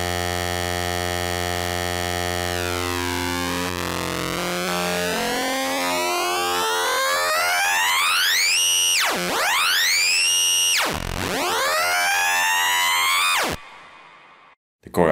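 A hollow square-wave synth tone with oscillator sync sweeps its bright harmonics in rising and falling arcs, growing harsher, then cutting off abruptly.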